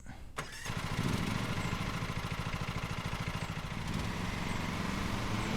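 A ride-on mower engine in Lawn Mowing Simulator cranks and catches, then settles into a steady, rhythmic mid-pitched chugging idle that runs loud and close for several seconds.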